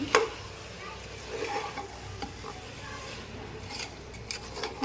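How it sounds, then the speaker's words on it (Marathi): Spices being stirred together in a pan while cooking chicken biryani, a soft continuous scraping and faint sizzle with a few sharper clinks of the utensil against the pan. "आणि सर्व मसाल्यांचं एकत्र करून घेते"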